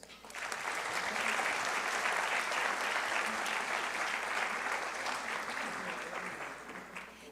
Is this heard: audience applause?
yes